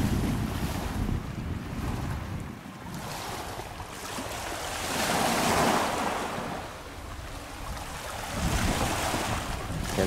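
Waves wash over a smooth-stoned beach in Crete, surging and receding in broad swells with steady wind noise buffeting the microphone and no voices.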